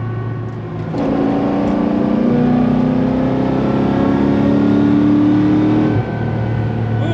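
A Chevrolet Corvette C6 Z06 fitted with new headers accelerates hard on a road in Mexico, its engine rising from a low idle rumble into a loud, sustained droning pull that climbs steadily in pitch for about five seconds before easing off.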